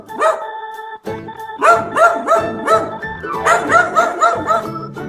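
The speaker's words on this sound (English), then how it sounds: "Dog." A dog barks loudly and close in a quick series of yapping barks, about a dozen in rapid rhythm after a brief pause.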